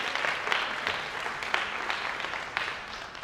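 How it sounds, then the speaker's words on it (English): Audience applause at a leadership conference held at Clark Atlanta University, a steady, dense clapping from a crowd that fills the room for the full few seconds at an even level. "clap it up for yourselves, please"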